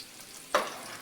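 A tarka for moong dal palak sizzles in a brief, sharp burst of frying, close and fairly loud against a quiet background.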